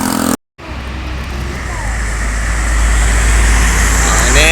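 Expedition trucks rumble past on a road leading to the Keramasan toll gate, a loud, close, continuous traffic roar that swells toward the end after a brief cut near the start.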